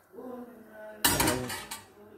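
Metal clatter of a spoon stirring boiling agar-agar in a pot, a burst of scraping and clinking after a quiet moment, close and fairly loud.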